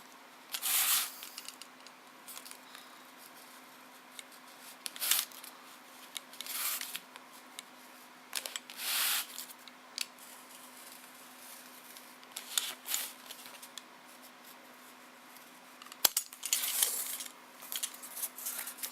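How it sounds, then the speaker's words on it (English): A blade makes a straight cut through Wolverine cosplay chest armour: a series of crisp, close snipping bursts spaced about every two seconds, fairly quiet over a faint steady hum. "Just a normal straight cut, and I'm going to come back in and cut on this side at the angle"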